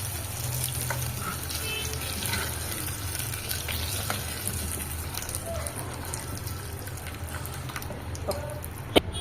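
Spices sizzle and crackle in hot oil with a steady frying hiss, close up, ending with a sharp clink.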